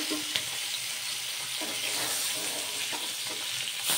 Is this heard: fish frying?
yes